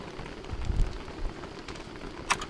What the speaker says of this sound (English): But why is it raining so much?